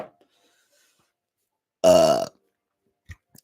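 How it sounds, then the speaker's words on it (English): A single loud, close burp from someone drinking Brewdog beer, lasting about half a second after near silence, with a faint click or tap afterward. "I'm going to burp."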